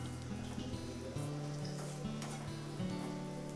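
Dry fruits frying in ghee while being made into panjiri, a soft steady sizzle with light stirring scrapes and a faint low hum, close and quiet.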